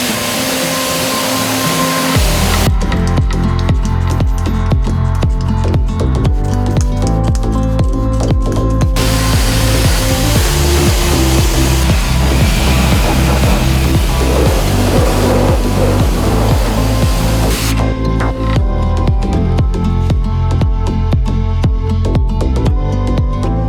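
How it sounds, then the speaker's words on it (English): Pressure washer rinsing out the engine bay of a Toyota Land Cruiser, a loud continuous hissing spray with a steady motor drone beneath it, shifting in tone as the jet moves, lasting throughout with no talk. "make sure to rinse everything out. And again, if you're using a pressure washer, keep a good distance away"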